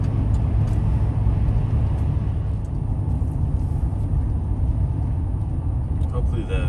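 A GMC Sierra 2500HD pickup truck driving on a highway at night and taking an exit, a steady low road rumble and engine drone filling the whole stretch at constant loudness.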